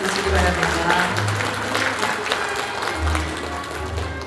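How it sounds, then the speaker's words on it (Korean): Audience applause at the opening ceremony of a joint medical care center at a convention center in Jeju, a steady crowd clapping that lasts the whole few seconds, with a low hum underneath. "여러분 박수로 맞아주시기 바랍니다."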